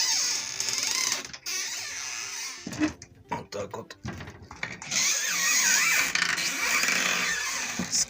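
Hinges of a small wall cabinet door at a country house creak loudly and repeatedly as the door is swung, long squealing groans broken by brief pauses, with a voice speaking briefly.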